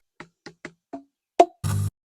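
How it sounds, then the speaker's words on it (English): Shiitake mushroom logs knocked against each other give five sharp, hollow woody knocks at uneven spacing, followed by a short rough scraping thud, all close and isolated. "You might just need to bang your logs around, knock them against each other, hit them with a mallet."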